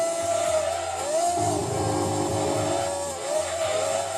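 Opel Calibra race car engine in the Gran Turismo 2 video game, a steady high-pitched droning whine with small pitch sweeps as the revs rise and fall, loud and continuous.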